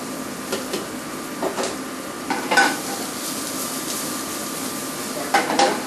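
Chopped onion sizzling in olive oil in a New Orleans-style bistro kitchen, a steady close frying hiss with occasional utensil stirs and pan clinks.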